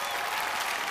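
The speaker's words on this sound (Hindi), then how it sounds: "एक बार जोरदार तालियां" A brief burst of loud, dense audience clapping, steady and close throughout one second.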